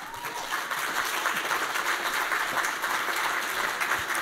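At a Chinese traditional orchestra concert, the audience claps steadily to welcome a pipa player to the stage, a moderately loud wash of applause heard from within the hall.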